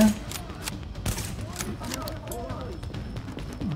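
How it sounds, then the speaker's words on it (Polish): Gunfire erupts in Tom Clancy's The Division, with several sharp shots in irregular bursts, moderately loud and mixed with other game effects while people talk over them. "strzał z tej giwery."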